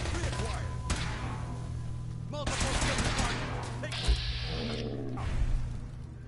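Laser rifle fire in Fallout 4 during a Brotherhood of Steel power armor mission, heard as repeated sharp energy shots over steady combat noise and a low hum, with one heavier thump near the end.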